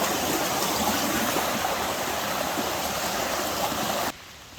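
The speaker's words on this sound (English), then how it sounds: "Water merging in from two different areas here" A mountain stream where water merges from two directions along the Noah "Bud" Ogle Cabin Trail on the Roaring Fork Motor Nature Trail near Gatlinburg, Tennessee, gives a steady, close, full rushing wash with no voices, cutting off abruptly just before the end.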